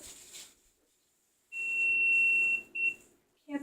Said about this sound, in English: Oh, that's my laundry timer.